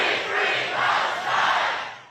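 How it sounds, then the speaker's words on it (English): Thousands of war protesters gathered outside the US Capitol raise a loud, sustained roar of chanting and shouting, a dense crowd swelling in waves with no single voice standing out. "a crowd of thousands of war protesters gathered"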